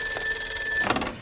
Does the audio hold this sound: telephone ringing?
yes